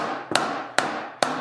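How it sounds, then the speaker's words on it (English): A ball peen hammer striking a brass sheet resting on a lead shot bag, three sharp metallic blows spaced about half a second apart, close and ringing briefly, with no talk. "I'm just taking a ball peen"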